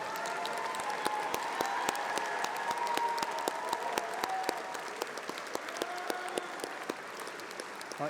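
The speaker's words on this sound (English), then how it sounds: "We give you a round of applause." Steady applause from a seated audience at a university graduation ceremony, a continuous even patter of many hands clapping in a large hall, moderately distant, with little voice underneath.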